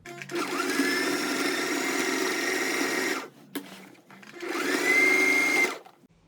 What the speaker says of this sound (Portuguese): abaixa a agulha, estica, passa a costura e vem esticando esse tecido